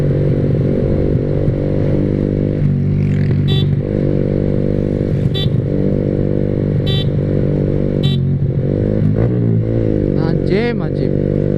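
A Yamaha R15 V3 motorcycle fitted with an SC Project exhaust drones loudly and continuously while riding, its buzzy note steady with brief revs and shifts, joined by passing traffic and a few horn-like bursts near the end.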